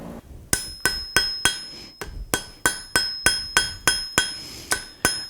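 Blacksmith's hammer tapping hot steel down while forging a shovel, a steady series of about a dozen sharp, ringing metallic strikes at an even rhythm, close and loud with no talking.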